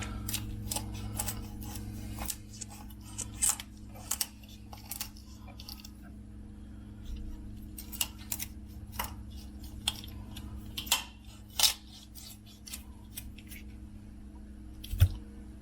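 Sharp snipping and crunching clicks come in irregular bursts as kitchen scissors cut through a chicken's backbone, over a low steady hum.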